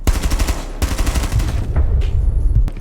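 Rapid automatic gunfire in Rainbow Six Siege as a player shoots a small hole through a barricade, loud dense bursts of shots with a brief break near the start and a sharper crack toward the end.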